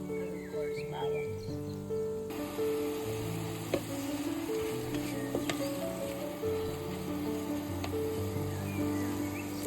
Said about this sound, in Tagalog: Igisa pa natin sa tomato and luya and of course bawang.